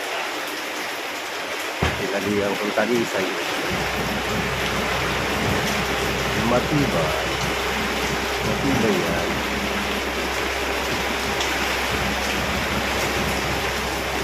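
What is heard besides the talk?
heavy rain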